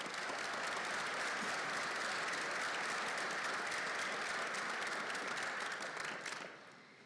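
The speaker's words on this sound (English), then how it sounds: "Let's give our student speakers a round of applause." A convocation audience at the UNMC College of Allied Health Professions claps for the student speakers. The applause is steady and sustained, then fades out at the end.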